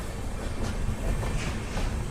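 A continuous, fairly loud rumble of the East Coast Express (Hyderabad–Shalimar) running alongside on the parallel line, with rolling rail clatter and light wheel noise throughout.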